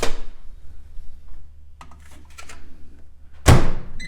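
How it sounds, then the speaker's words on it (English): A microwave door shuts with a loud, sharp thunk near the end as apples are put inside, after faint clinks and rustling handling sounds and a low hum. "let's get them in the microwave."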